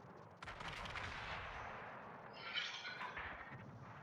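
A naval gun salvo fires in the World of Warships video game aboard the Pensacola, a sudden loud blast followed by a long rumbling roar that swells again midway as further shots boom, with no talk over it.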